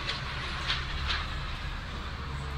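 An Indian train pulls in within a train video game. A low, steady rail rumble is heard with a few faint clicks, quiet and continuous.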